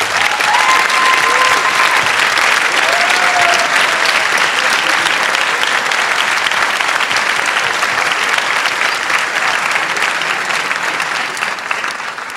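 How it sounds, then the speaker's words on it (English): Audience applause at a school scholarship awards night, a dense, loud and steady ovation from a large crowd filling the room for over twelve seconds before easing slightly at the end. "Let's give them a nice ovation for the generosity."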